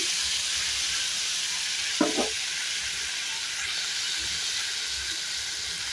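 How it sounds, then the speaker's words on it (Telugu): Finely chopped tomatoes fry steadily in hot oil in a pan for coconut chutney, giving a continuous soft sizzle with a brief clatter of stirring partway through. "టమోటా మెత్త ఉడికేదాకా ఫ్రై చేసుకోవాలి"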